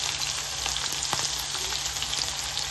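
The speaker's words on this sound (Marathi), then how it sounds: "हे छान पूर्ण फ्राय करून घ्यायचं आणि एक्स्ट्रा तूप मला जास्त वाटलं तर मी काढून घेईन" Ghee sizzles steadily in a pan while frying ingredients for sabudana khichdi, a dense close crackle with small pops and no talk.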